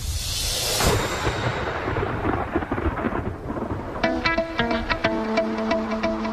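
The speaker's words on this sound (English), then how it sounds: "a massive thunderstorm rolls in" A long deep rumble of thunder from a massive thunderstorm near Pikes Peak rolls and fades, followed by steady rain with scattered drips and pattering close by.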